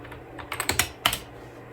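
Keys clack on the aluminium keyboard of a 2007 20-inch iMac, a quick close burst of about half a dozen taps over a faint background hum, with no voices.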